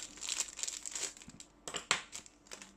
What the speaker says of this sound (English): So I'm just going to open everything up out of its packaging.